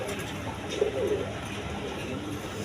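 A pigeon coos softly once or twice from a nesting pair in a loft of colored fancy pigeons for sale, a short low murmur over steady background hum, with no voices.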